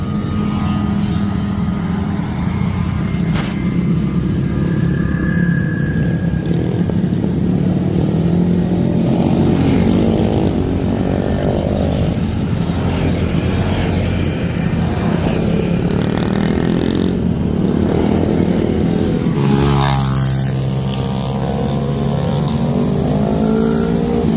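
A small 40cc motorbike engine revving nearby, a loud buzzing drone that rises and falls in pitch over repeated throttle blips, with a sharp surge near the end.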